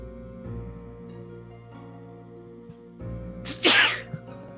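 One sharp, loud sneeze bursts out over a quiet background of steady tonal game music.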